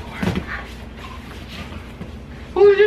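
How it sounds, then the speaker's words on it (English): A Vizsla indoors gives a short, sharp bark near the end, after a quieter stretch of low household noise with a voice talking faintly. "What are you barking for, huh?"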